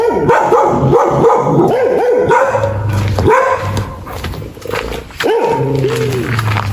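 Dogs bark in a Jamaican yard scene: a rapid run of loud, close barks fills the opening seconds, followed by a pause and a few further barks and drawn-out yelps.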